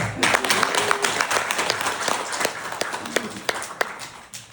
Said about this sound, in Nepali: अनि किन ताली नबजाउने? एकपल्ट फेरि बजाउँ।